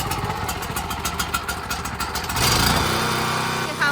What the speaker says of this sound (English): You put it to that, and that's it. And it starts really well.